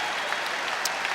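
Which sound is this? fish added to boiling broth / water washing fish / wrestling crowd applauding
wrestling crowd applauding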